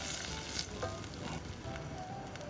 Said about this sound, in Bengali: এখন আমি হাফ কাপ পরিমাণ ওয়াটার অ্যাড করে দিয়েছি যাতে বাকি মশলাগুলো দিলে পুড়ে না যায়।